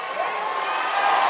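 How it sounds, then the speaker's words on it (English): Crowd noise at a women's volleyball arena, Hawaii versus CSUN, with scattered applause and murmuring in a sarcastic reaction, a broad steady roar without sharp peaks. "And a sarcastic applause from the crowd this time."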